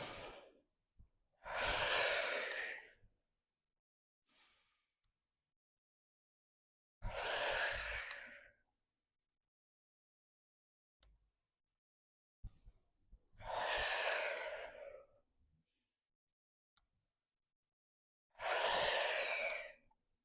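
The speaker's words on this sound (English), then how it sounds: "We're going to breathe it out again." Slow, deep exhalations after an at-home workout, five long breaths out spaced several seconds apart with near-silence between them, close to the microphone and with no talk.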